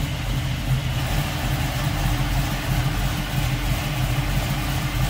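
A 1968 Chevrolet Camaro convertible with its numbers-matching 327 V8 idles steadily, a low even rumble held at constant volume with no revving and no talk.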